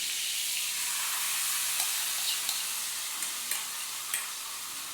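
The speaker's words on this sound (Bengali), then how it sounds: "এবার এই গরম তেলের মধ্যে আমি এটা দিয়ে দিলাম" Meat dropped into hot oil for a mutton dish, giving a steady, loud, close sizzle with a few faint clinks of a utensil over the frying.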